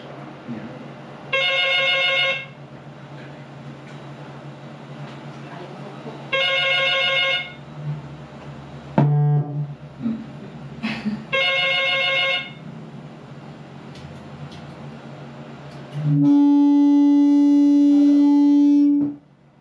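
Telephone rings through during a morning radio call-in show, loud repeated ring bursts spaced several seconds apart, followed by a long steady line tone, with voices talking between the rings.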